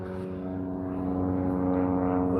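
A propeller airplane drones overhead, a steady low engine hum with layered harmonic tones that swells slightly as it passes, alone and moderately faint.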